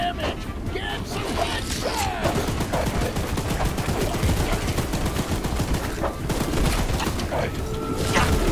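A mounted gun firing continuously in a video game, rapid loud close bursts hammering without pause while voices shout over the shooting.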